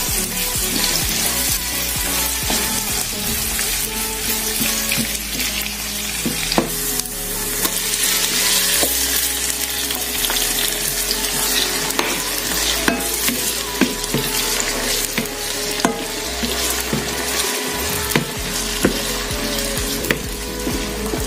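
Tomatoes and onions cooking in a pan, a steady loud sizzle and bubbling simmer running throughout with occasional scrapes of a spoon stirring, close and continuous, no talking.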